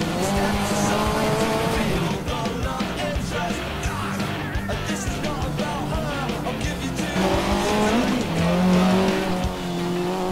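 A rally car in the Dirt 2 racing game in Croatia screams through hairpin turns in second or third gear, a loud engine rising and falling with tire squeals and skids, and a voice talks over the action.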